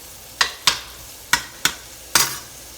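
Sliced red onions sizzling and being stirred in a hot pan over medium-high heat after shrimp has been cooked in it, heard as five sharp scraping strokes over a low hiss, close and with no talking.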